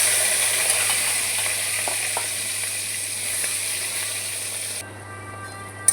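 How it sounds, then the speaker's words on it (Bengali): Onions sizzle steadily in hot white oil with a bit of butter, whole garam masala, dry chillies and bay leaves, a loud, close, even hiss that drops off sharply near the end, with no voices. "পেঁয়াজ দিয়ে দিচ্ছি।"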